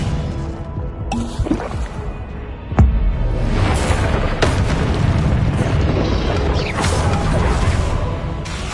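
In Hogwarts Legacy, a Confringo fire spell bursts with a sudden heavy boom, and a loud rumbling blaze and crackle sustain afterward amid magical combat effects.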